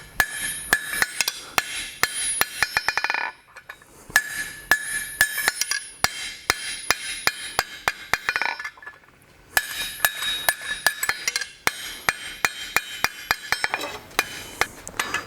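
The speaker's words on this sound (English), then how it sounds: "Start one at close to the end, just strike down, and flatten the little offset part." A hammer beats hot metal over a fuller during forging of art deco bookends, loud ringing strikes in quick regular runs, broken by short pauses between bursts.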